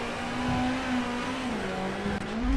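A Ford Fiesta WRC rally car in WRC 8 holds full throttle, its engine a steady loud drone whose pitch dips slightly and then climbs again, heard without any voices.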